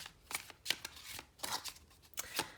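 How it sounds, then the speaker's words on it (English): A tarot deck is cut and handled in quick papery bursts, several short card riffles and slaps in a steady uneven rhythm, close and fairly quiet with no voices. "I just start the videos off by cutting the deck"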